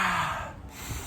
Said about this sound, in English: Just take a breath.